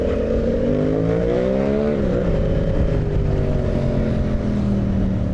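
A motorcycle engine revving while riding through city streets, a close, steady drone whose pitch climbs, dips, and settles, with continuous wind and road noise.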